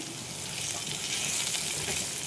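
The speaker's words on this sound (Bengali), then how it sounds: "আলুটা ভালো ভাজা হয়ে গেছে" Potatoes fry in a pan with poppy seeds and salt, giving a steady, close, even sizzle that cuts off abruptly, with no talking.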